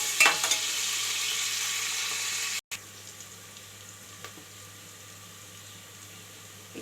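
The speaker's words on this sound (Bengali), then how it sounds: "পেঁয়াজটা ভাজা ভাজা করে নেব।" Onions frying in a pan for spicy monsoon khichuri, a steady broadband sizzle that is louder for the first few seconds, then briefly cuts out and continues more quietly with faint stirring ticks.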